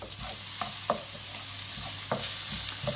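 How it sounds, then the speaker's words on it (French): Vegetable quiche filling of courgette, aubergine and bell pepper with Provence herbs being stirred in a pan, a steady soft sizzle broken by several light scraping strokes, close and alone. "Allez, on mélange bien tout ça."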